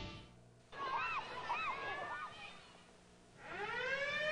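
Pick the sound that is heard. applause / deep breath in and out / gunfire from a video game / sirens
sirens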